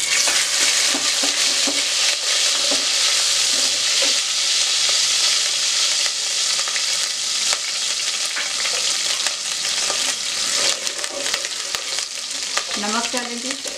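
Garlic ginger paste frying in hot oil, a loud, dense, continuous sizzle and crackle with occasional stirring scrapes, heard close up throughout.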